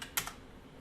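A few quick keystrokes tap on a computer keyboard while router configuration commands are entered, close and quiet, with no talking.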